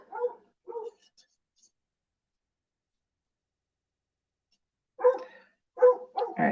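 Dogs bark in short bursts nearby: a couple of quick barks, a long pause, then a louder cluster of several barks, all standing alone with no talk.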